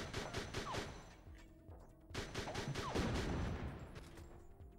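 Rapid bursts of gunfire and explosions in Fighting Force 2 on PS1 crackle in a dense, continuous barrage with a few whistling sweeps, moderately loud.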